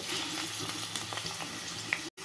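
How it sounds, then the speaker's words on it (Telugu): Steady crackling sizzle of grated vegetable frying in hot ghee, with a few light clicks of a utensil and a brief dropout near the end. "ఇప్పుడు ఈ సొరకాయ తురుముని నెయ్యిలో వేసుకోవాలి"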